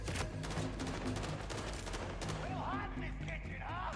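Rapid video game gunfire pops steadily throughout, forming a dense continuous barrage with a steady background hum and brief whooshing effects near the end.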